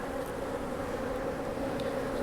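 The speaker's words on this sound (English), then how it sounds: "It's covered with bees." A close, continuous drone of honey bees buzzing over an opened hive during queen-grafting work, steady and moderately loud, with no talking.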